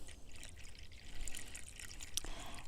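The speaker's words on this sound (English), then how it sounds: "Now, I'm going to fill this jug up to 1 litre." Water pours into a jug being filled to one litre, a soft, faint trickling stream heard close by with a small clink partway through and no talking.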